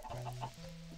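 Chickens cluck in a Minecraft-style video game, a quick series of faint, close clucks over a low steady tone.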